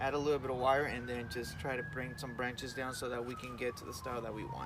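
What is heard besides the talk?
emergency vehicle sirens in the background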